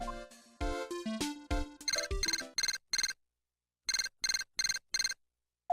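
A transceiver rings in the Phoenix Wright: Ace Attorney video game, a close electronic chime tune followed by a series of short, evenly spaced synthetic ringing bursts with brief gaps, loud and alone.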